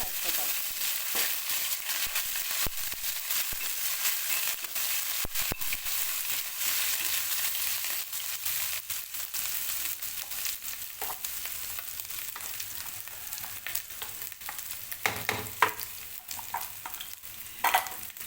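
Ginger paste sizzling in hot oil in a pan for egg curry, a steady close hiss broken by scattered stirring clicks and scrapes, with no talking.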